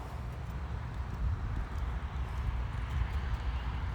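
A horse moving at a canter, low thudding hoofbeats in a steady rolling rhythm on soft ground, fairly close and continuous with no talk over it.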